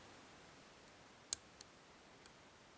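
A lock pin on a Volkswagen Polo car lock gives a single crisp click while being picked, followed by a couple of fainter ticks in an otherwise quiet, close-up setting.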